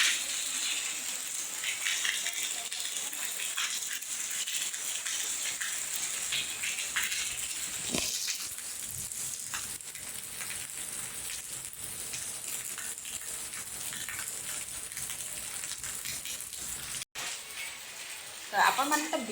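Heavy rain falls in a steady, dense hiss that fills the whole stretch, with brief dips and a few louder splashes near the end, and faint voices now and then underneath.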